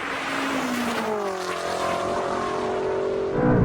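Powerful engines roar through a drag race launch between a BMW G90 and a Ferrari SF90, a loud, continuous wash of engine noise with rising tones as the cars pull away, and no talking.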